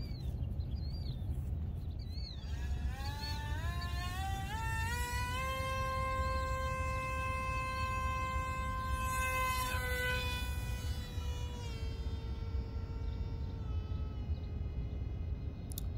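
A Zohd Dart 250g RC plane on a 6S battery launches with a thin, high electric motor whine that climbs sharply in pitch, then holds a loud, steady wavering drone as it flies, with no talk.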